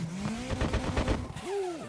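A drift car in Assetto Corsa, with no gear changes, revs hard and loud, its engine tone climbing and dipping in quick pulses before a short rising and falling rev at the end.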